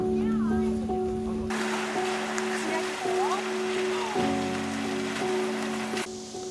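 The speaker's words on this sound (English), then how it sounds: "After that, it started to rain." Rain falls steadily on streets in Rome near the Vatican, a dense broadband hiss that starts abruptly after a moment of quieter ambience, with a low tonal hum and some distant sounds underneath.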